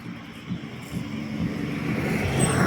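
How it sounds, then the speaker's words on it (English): A bus approaches a stop by a road near a UK nature reserve, its engine rumble growing steadily louder and closer over a broad traffic hiss. "Here's a bus coming, my viewers."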